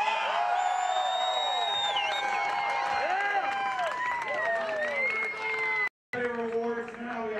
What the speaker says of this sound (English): A round of applause to the University of Tennessee.